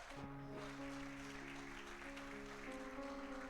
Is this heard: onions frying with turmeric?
no